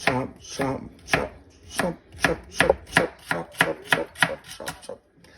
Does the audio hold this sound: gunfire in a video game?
no